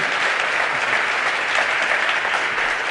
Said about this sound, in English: if you applaud for their contributions